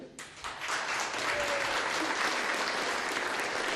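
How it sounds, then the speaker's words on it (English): Audience applause honouring Phi Beta Kappa economics graduates at a University of Oregon graduation ceremony, a dense, steady wash of clapping that swells in quickly and holds loud and even throughout, with no voices over it. "so we can applaud your efforts"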